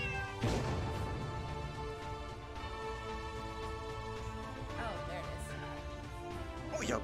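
A cat meows repeatedly over busy game music and effects in the VR game Kitten Cannon, the meows rising and falling in pitch near the start and toward the end.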